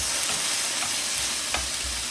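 Chopped Roma tomato sautéing in a hot pan, with steady broadband sizzle and a few light stirring scrapes, close and continuous with no talking.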